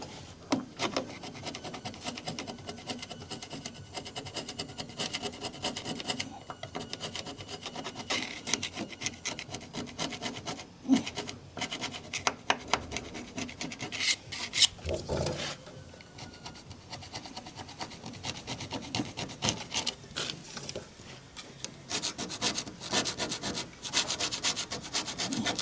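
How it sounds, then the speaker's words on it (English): A hand scraper rasps steadily along the edges of a rusty Land Rover Defender rear crossmember, scraping off leftover paint and crud in close, continuous strokes with sharper scratchy bursts throughout and no talking. "we're just going to nip round all edges, any bits of paint or crud left that we can't get off with grinder or sander"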